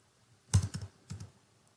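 Code typed on a computer keyboard, a short quiet burst of a few crisp key clicks in two quick clusters, close and alone.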